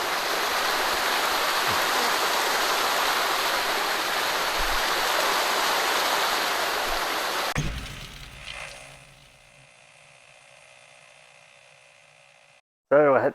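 La La Falls waterfall gives a steady, close rush of flowing water for about seven seconds before cutting off into near silence, with a short burst of sound at the very end.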